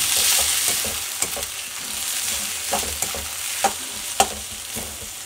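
Cauliflower Manchurian sizzles in a pan with soy sauce while a spoon stirs it, giving a constant crackling hiss punctuated by distinct clinks and scrapes at irregular intervals, close and fairly loud.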